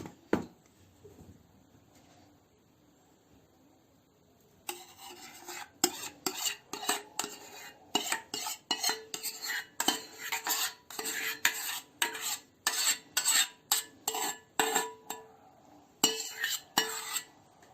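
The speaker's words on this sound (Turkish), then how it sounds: "Şimdi arkadaşlar yağımla da unu iyice bir harmanlıyorum." Flour is worked together with oil by hand in a bowl for Hatay-style kömbe dough, giving a steady run of close rubbing, scraping strokes in a rhythmic series after a quiet start.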